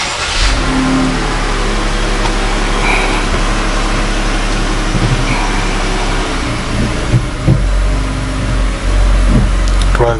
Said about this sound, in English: let me try to start the engine again